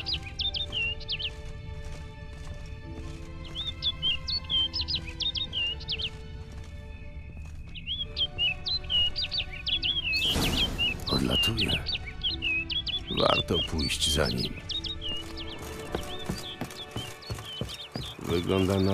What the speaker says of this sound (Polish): to, że ten ptak dokądś mnie prowadzi.